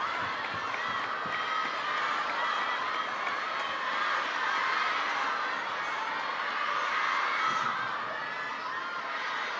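Spectators at a table tennis match at the Asian Cup cheer and shout steadily throughout, a dense, continuous roar of crowd noise with excited voices rising and falling.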